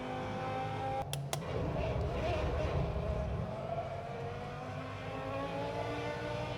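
A racing car engine in a sim racing game at the Nürburgring holds a steady, loud drone, with a couple of brief sharp clicks early on.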